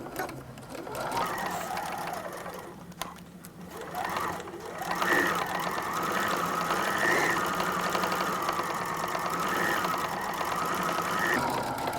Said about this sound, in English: turn it to the bottom, and go ahead and stitch the bottom